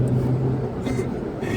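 A 2011 BMW 335i xDrive with a six-speed automatic accelerates, its engine producing a steady low drone heard from inside the cabin while someone talks over it.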